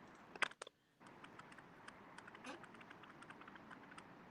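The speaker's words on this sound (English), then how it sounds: "Someone's typing something." Faint clicking of someone typing on a computer keyboard, a quick burst of keystrokes then a short pause, followed by scattered, irregular taps over a quiet, hissy background.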